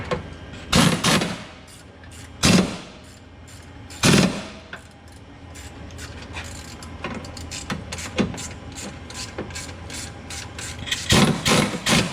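Wrench work on the front sway bar end links of a 2017 Dodge Challenger R/T, with several sharp metallic clanks and rasping turns at close range over a steady background hum.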